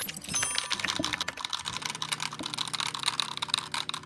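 Computer keyboard typing added as a comment sound effect, a steady, busy run of close, crisp key clicks over about four seconds with no talking.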